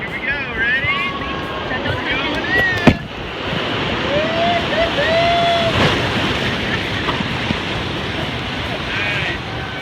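A river rapid rushes and splashes around a raft in Park City, Utah, a loud continuous roar of churning water with wind buffeting the microphone and a sharp knock partway through.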